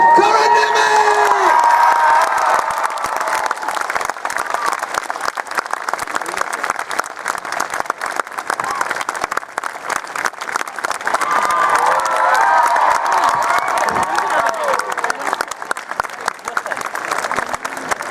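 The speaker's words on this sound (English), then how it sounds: "Let's have a big round of applause." A convention stage audience applauds and cheers loudly, with sustained clapping, whoops and shouts from a large crowd.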